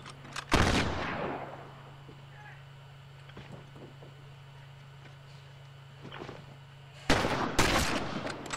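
Rifle gunfire in a video game against uniformed enemies: a loud close shot near the start and a dense burst of shots at the end, with quiet game ambience between.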